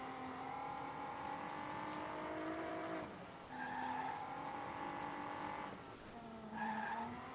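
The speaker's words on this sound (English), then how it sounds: "Locking up equally as bad again as we did in the previous lap" In the RACECLUB racing game, a race car's tires lock up under hard braking, giving a sustained screeching skid in repeated waves alongside the whining engine, loud and close.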